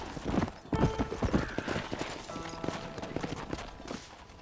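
Horse hooves clip-clopping in the video game Red Dead Redemption at the Beecher's Hope ranch, a run of close, uneven hoof thuds with a faint snort or whinny and some game sounds around them.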